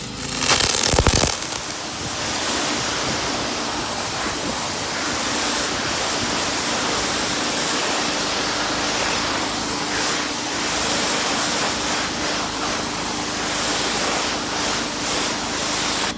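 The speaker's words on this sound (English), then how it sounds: "you'll hear my annoying pressure washer at work" A pressure washer sprays a rubber car floor mat, a loud continuous hissing blast of water close by that holds steady throughout after a brief clattering start.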